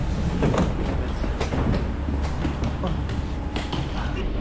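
An Italian train running on rails rumbles loudly and steadily at close range, as if heard from inside the carriage, with clattering knocks and people talking over it.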